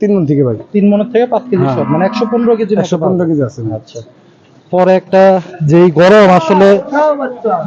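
Cattle at a Qurbani cattle market low in a run of long, close, loud moos, with a brief quiet gap before more calls.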